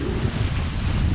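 Strong wind at sea aboard a sailboat rounding the Cape of Good Hope, a loud steady roar of gusting wind buffeting the microphone, with waves rushing beneath.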